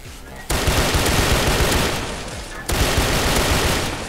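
Rapid automatic gunfire in a GTA San Andreas MTA DayZ server game comes in two sustained loud bursts, dense and continuous, separated by a brief lull, with players talking faintly underneath.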